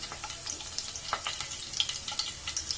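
Fresh bay leaves fry in oil for a Tamil channa masala, giving a quiet steady sizzle with small crackling pops scattered throughout and no voices.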